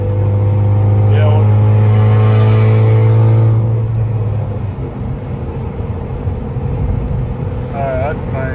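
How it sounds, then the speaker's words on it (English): A 2018-2022 Honda Accord 2.0T with an aftermarket exhaust burbling while driving, a steady low engine drone that eases off and settles into a rougher rumble, heard from inside the car at close range. "Well, the burble increased. Yeah, the exhaust has got louder."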